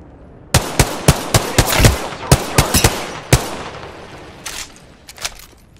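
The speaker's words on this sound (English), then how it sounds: "The enemies are shooting at me." Enemy gunfire rattles in a video game, a dozen sharp, loud shots in an irregular burst-like rhythm, thinning out to scattered distant cracks as it fades.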